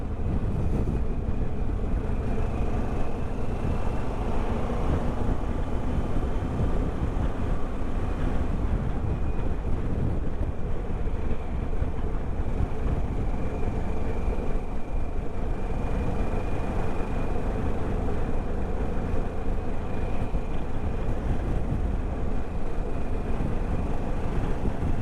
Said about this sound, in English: The engine sounds like a KTM.